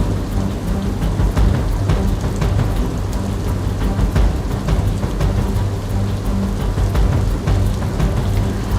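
Heavy, unbroken rain pours down during flooding in Kalavad, Jamnagar, Gujarat, a loud dense hiss drumming on surfaces with low rumbling beneath, and no voices.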